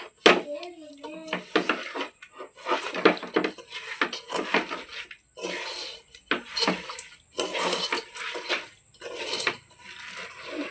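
Chapala fish pieces are mixed by hand with turmeric, chilli powder, salt and oil in a bowl, making irregular wet squelches and clattering knocks against the dish in close bursts with pauses between.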